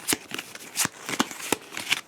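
A deck of board game action cards being shuffled by hand, a series of crisp riffling flicks and snaps in quick irregular bursts, close and clear with no talking.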